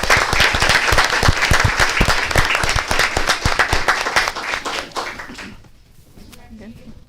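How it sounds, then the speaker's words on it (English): A crowd at a school board meeting applauds loudly with dense, steady clapping for several seconds, then it fades out and quiets near the end. "let's give them a round of applause."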